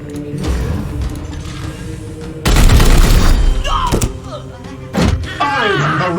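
Gunfire in the Warhammer 40k Chaosgate Daemonhunters video game: a few sharp, loud booming bursts break through quieter game sound effects and ambience.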